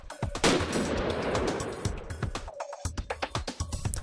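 Gunshot blasts used to get a dog used to shooting, several sharp reports in quick succession with echoing tails, ranging from loud to fainter pops across the span.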